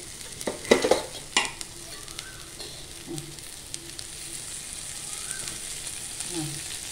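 Okra being sautéed in oil in a pan, a soft steady sizzle broken by a few sharp stirring scrapes early on, then quieter frying with faint occasional clinks.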